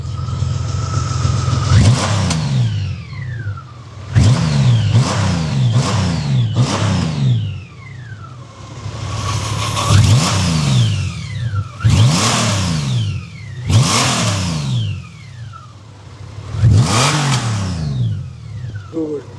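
A Honda Gold Wing flat-six motorcycle engine revs repeatedly, each throttle blip rising and falling back to a smooth idle, loud and close, about eight revs in a row.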